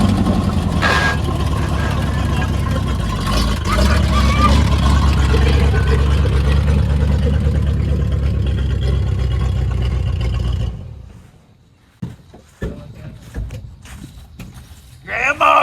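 A 1980 Freightliner truck's engine rumbles loudly and steadily while driving for about ten seconds, then cuts away to quieter clunks and knocks, with voices speaking over parts of it.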